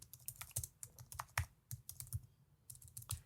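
Fast, uneven typing on a computer keyboard, close and quiet, with bursts of key clicks and brief pauses.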